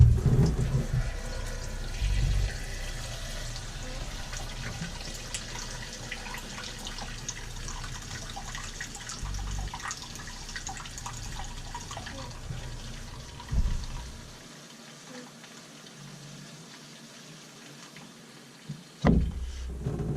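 Tap water runs steadily into buckets being filled with soapy water for washing a tire, a continuous rushing hiss with occasional clunks of the buckets, ending in a quieter stretch and a final knock.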